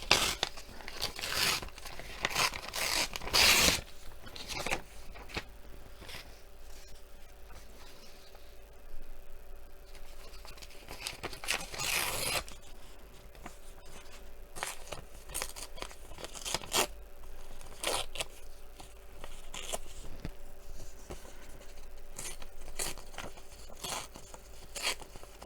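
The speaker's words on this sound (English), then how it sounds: "I think I'll just hand tear it." Paper torn by hand for a craft project, a series of close, sharp ripping and crinkling bursts clustered early and scattered through the rest, with quiet handling noise between.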